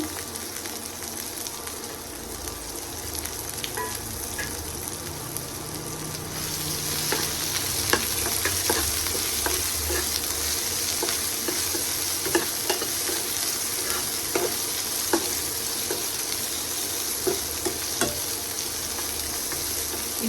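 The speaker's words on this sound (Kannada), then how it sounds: "ಇವಾಗ ಇದು ಆವಾಗಲೇ ಫ್ರೈ ಮಾಡ್ಕೊಂಡು ಇಟ್ಕೊಂಡಿರೋದನ್ನು ಮಿಕ್ಸ್ ಮಾಡ್ಕೊತಾ ಇದ್ದೀನಿ ಚಳ್ಳವರೆಕಾಯಿನ" Pre-fried field beans (chalavarekai) being stirred in a hot pan for a North Karnataka palya: a continuous sizzle that grows louder partway through, with frequent scraping and clicking stir strokes.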